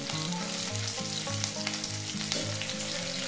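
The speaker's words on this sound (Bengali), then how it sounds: "এবার আমি দিয়ে দিচ্ছি কটা রসুনের কোয়া দিয়ে দিচ্ছি এর মধ্যে।" Garlic cloves fry over a high gas flame in a hot pan while making matar paneer, giving a loud, steady oil sizzle with faint stirring clicks and no voices.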